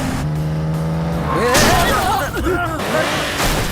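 A car crash in an Indian film scene: revving engine and squealing tires build into a loud, continuous rush of impact noise and metallic clatter, with voices under the din.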